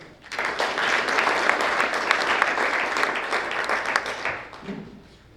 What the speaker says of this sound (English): So another big round of applause for all of these fine examples of lifelong learning